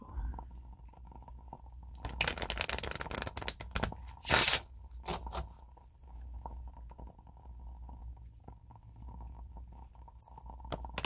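Slippery tarot cards are shuffled in a burst of close, crisp riffling and flapping, followed by a sharp slap, then softer handling and light taps over a low background hum.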